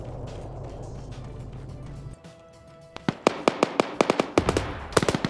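Video game gunfire in a large-scale Russia vs Britain PvP match, sharp shots cracking in rapid irregular bursts after a rumbling stretch, loud and close.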